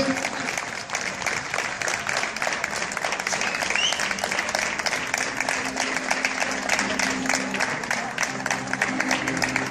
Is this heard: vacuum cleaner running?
no